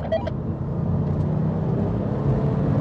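A Porsche 911 GT2 and a Corvette ZR1 accelerate hard from a rolling start in third gear, their engines a loud, steady, rising roar close by.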